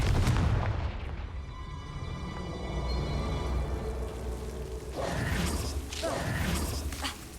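A Confringo fire spell explodes in Hogwarts Legacy with a loud booming blast right at the start, fading into a rumbling tail, followed by a second crackling burst later on.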